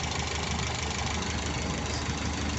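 A car engine idles at about 720 RPM with a fitted bimetal vacuum switch, giving a dense, steady, loud rumble with no pauses.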